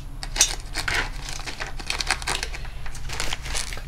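A plastic parcel bag from an Ozon order is pulled open by hand, giving close, dense crinkling and crackling with small sharp snaps throughout.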